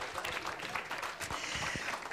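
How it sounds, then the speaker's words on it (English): An audience gives a steady, moderately loud patter of applause with no break, heard alone without talking. "Give yourself a round of applause."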